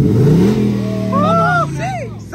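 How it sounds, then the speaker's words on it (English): A Ford 5.0 car engine revs in neutral at a tailgate gathering. A low rumble climbs and then sustains beneath overlapping shouting voices. "Rev it. Throw it in neutral, hit the gas."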